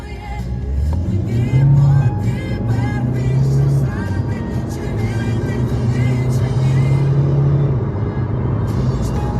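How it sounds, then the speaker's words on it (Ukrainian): A Skoda A5 with a 2.0 TDI diesel accelerates hard at full throttle from inside the car, its engine droning loudly and rising steadily in pitch through each gear before the revs drop at a shift. "Зараз подивимось, як ця шкода розганяється до 100. Це просто весь режимі і просто газ в пол."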